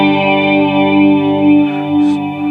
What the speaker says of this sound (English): You can hear a large chunk of the tone is coming from that reverb pedal.